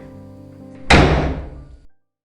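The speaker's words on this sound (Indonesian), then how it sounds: "ada yang menutup pintu dengan kencang" A door slams shut hard in a single loud, close impact that rings out for about a second before cutting off, following a quiet stretch of low room tone.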